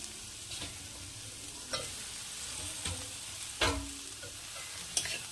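Masala with chopped tomato stir-fried for a spicy chicken curry, a low, soft sizzle broken by a few spatula scrapes and stirs against the pan, close and with no talk.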